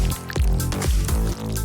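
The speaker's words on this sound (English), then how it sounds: "Drip on some dark hot glue." Dark hot glue drips onto a LEGO figure build in a few soft, wet drips. Short squishy blips fall one after another over a faint background.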